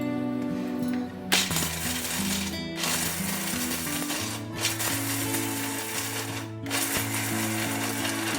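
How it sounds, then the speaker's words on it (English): Mixer grinder pulsing almonds in a jar for a dry fruit laddu, a loud whirring motor with rattling, grinding churn, running in short bursts separated by brief stops, with no talk. "take a mixer jar and grind almonds, just pulse and beat for few seconds"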